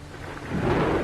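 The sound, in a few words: heavy rain with thunder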